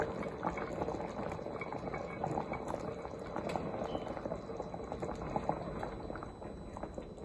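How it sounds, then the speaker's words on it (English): Shrimp sauce with carrot and green peas boiling steadily in a pot, a continuous soft bubbling and popping close by with no voices. "So we brought it to a boil."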